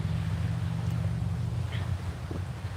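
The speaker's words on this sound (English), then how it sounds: "Ooh, it's windy." Wind gusts across a microphone at a lakeside viewpoint near the Mackinac Bridge, a steady low rumble and buffeting filling the short stretch with no talk.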